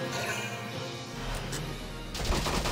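Gunfire in the Valkyria Chronicles video game, a burst of crashing shots with a heavy low rumble and a sharper volley near the end, close and fairly loud.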